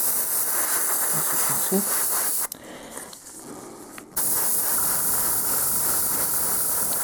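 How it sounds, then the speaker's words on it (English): An airbrush compressor hisses steadily while a miniature is primed with airbrush paint, a continuous spray-like rush that cuts out briefly for a couple of seconds before resuming, with a voice speaking faintly over it. "this is my compressor, so don't worry about it."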